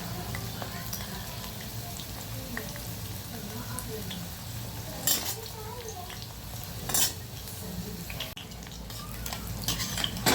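Onion pakoda, a crispy Kolhapur-style onion fritter made without water, frying in hot oil with a steady, close sizzle and occasional stirring and utensil clinks over the pan.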